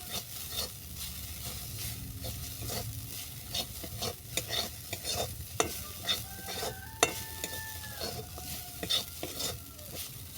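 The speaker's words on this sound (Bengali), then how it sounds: "বাদামটাকে এক মিনিটের মতো ভেজে নেব" Nuts frying in a pan for a sweet made with kanthal dana, a steady sizzle with repeated scraping and clinking from a stirring spoon, close and fairly loud throughout, with no voices.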